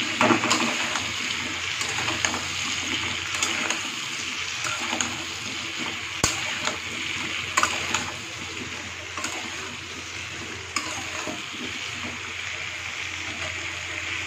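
Potatoes and pointed gourd (potol), salted, frying in a pan while being stirred: a steady, fairly loud sizzling hiss runs throughout, with occasional sharp scrapes and clicks and no voices.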